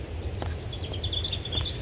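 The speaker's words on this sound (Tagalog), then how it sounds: "Ganda ng tunog ng ibon." Birds chirp and trill near Sheoak Falls in Lorne, Australia, a few thin repeated calls standing out over a steady background hiss of flowing water.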